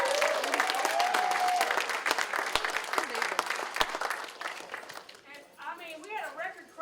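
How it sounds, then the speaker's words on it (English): An ovation for a football team at a faculty meeting, with a crowd clapping and a few cheers, the applause thinning and giving way to talk toward the end. "how about a big rousing ovation for our football team making a play?"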